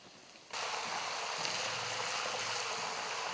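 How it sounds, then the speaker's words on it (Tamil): Curry leaves and green chillies hit hot oil and burst into a loud, steady sizzle that starts suddenly and keeps hissing evenly to the end. "கருவேப்பிலையில் தண்ணி இருக்கக்கூடாது நல்லா ஃப்ரை ஆயிடணும்"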